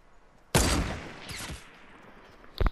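A short burst of gunfire in a Fortnite match cracks out loud and close, followed by a second volley and one last sharp shot.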